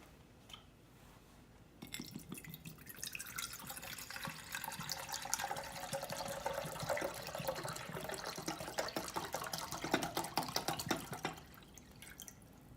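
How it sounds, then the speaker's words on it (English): Demineralized water poured off into a container in a home cosmetics kitchen, a quiet trickling, splashing stream that starts after a brief pause and runs continuously, with faint drips at the end. "I'm going to pour off the demineralized water that we're going to use in today's recipe."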